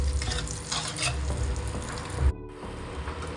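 Spice mix of chilli and cumin powder frying in a pan, a close steady sizzle with spatula scrapes and stirring strokes, a brief break in the sizzle partway through, no voices.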